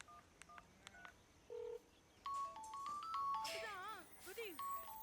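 A mobile phone gives off a series of electronic beeps and tones, quiet and intermittent at first and then louder and warbling, with people speaking over part of it.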